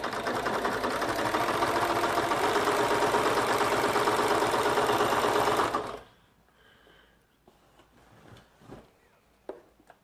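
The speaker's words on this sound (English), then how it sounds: "It's lined up on that edge, and now I'm just gonna sew in that little area." A sewing machine fitted with a walking foot stitches a large quilt-as-you-go border in one loud, steady whirring run for about six seconds, then stops, leaving faint handling clicks and rustles.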